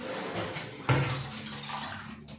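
Metal household utensils are lifted out while packing for a move to a new house: a single sharp metallic clank with a short ringing tail stands out over a low, quiet room background.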